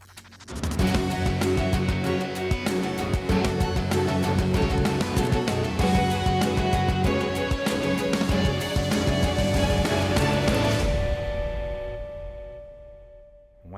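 Match-start music for the alien shooter game Infested, built from deep bass, layered percussion and gunshot sounds used as a shaker, runs loud and dense for about eleven seconds, then fades out.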